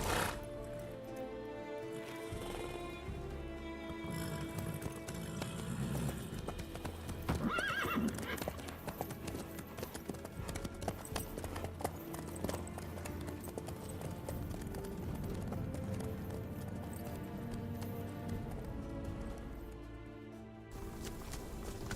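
Horse hooves clip-clop steadily through the whole stretch in The Witcher 3 video game, with a horse neighing partway along, all set inside a dense bed of game music and ambience.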